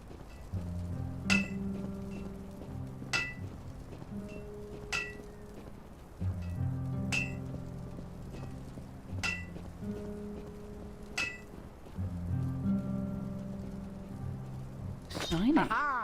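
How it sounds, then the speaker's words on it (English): A sword is forged in the Divinity 2 video game, with metallic hammer strikes ringing in evenly spaced groups over a low droning background, followed by a brief clinking flourish at the end. "Lord, all that hammering is going to be torture."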